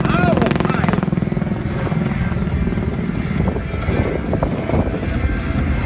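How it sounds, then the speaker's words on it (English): Military aircraft, including an F-15SG fighter and an AH-64D Apache helicopter, perform an integrated flying display at the 2016 Singapore Airshow. A loud, continuous rumbling drone with a throbbing rotor-like beat carries through the whole clip, with crowd or announcer voices faintly mixed in. "Up next, Major Love will perform a spiral dive, showcasing the agility of this fighting machine and the handling skills of our pilots"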